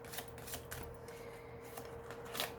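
Tarot cards are laid down and shuffled, a few soft, close papery swishes and slaps over a faint steady hum, with no voices.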